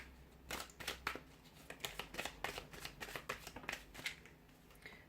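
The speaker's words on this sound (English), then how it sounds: "we'll give the cards a shuffle" Tarot cards are shuffled by hand in a quick run of soft riffling flutters and slaps, close but quiet, with no talking.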